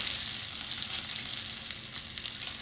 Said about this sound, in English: is render the fat on the side of the New York strip